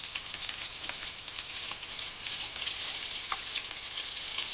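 Garlic and onion frying in hot oil for Filipino humba, a close, steady crackling sizzle with scattered pops and stirring.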